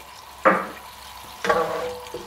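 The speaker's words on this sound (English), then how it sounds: "Pop the lemon juice in." Lemon juice poured into a simmering chicken sauce in a hot pan, two bursts of hissing sizzle a second apart, the second longer and fading, close and moderately loud with no talking.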